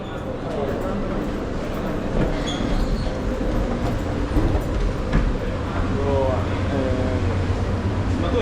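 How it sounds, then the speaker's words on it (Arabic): Steady rumble of a metro train in an underground station in Rome, with crowd chatter and voices throughout and occasional faint squeals of wheels. "نازلين دلوقتي نركب المترو يا جماعة."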